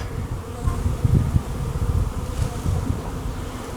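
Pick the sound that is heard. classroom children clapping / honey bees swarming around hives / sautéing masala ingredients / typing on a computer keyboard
honey bees swarming around hives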